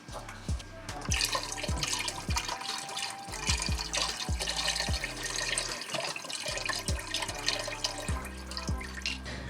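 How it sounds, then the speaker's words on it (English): Chicken broth poured into a pot of vegetable stock for chicken soup, a steady close splash of liquid with soft drips and thuds running through the whole stretch. "Add the chicken broth."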